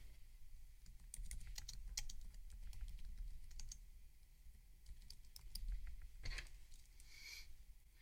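A computer keyboard shortcut is typed during a Wacom tablet setup: a steady run of close, crisp key clicks and taps over a low room hum, with no talking.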